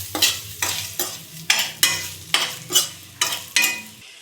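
A spoon stirs a chilli sambharo mixture of spiced green chillies with turmeric, coriander-cumin powder and salt in a pan, making eight or so regular scraping, sizzling strokes, close and clear with no talk.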